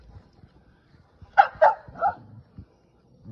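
A small American bully–pit bull type dog gives three quick, fairly close barks in the middle of an otherwise quiet indoor moment, with faint background rustling.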